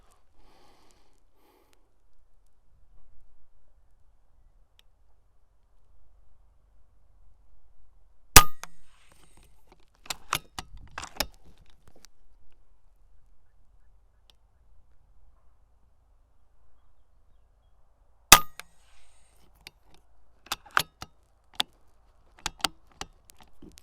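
Two rifle shots ring out about ten seconds apart while a HIKMICRO Stellar thermal scope is zeroed on a target. Each sharp crack is followed by a few quieter metallic clicks in an otherwise still setting.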